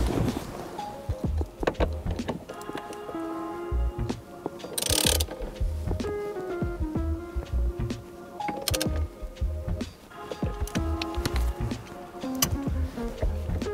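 A wrench ratchets and clicks while tightening the steering wheel nut on a 2022 BRZ/GR86 during an aftermarket wheel install, giving close, busy metallic clicks and clunks in irregular bursts with no talk.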